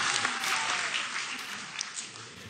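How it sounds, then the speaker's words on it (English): Audience applause at a talk on witchcraft, a steady wash of clapping from a crowd that holds through the whole stretch with no speech over it. "Give me some applause there."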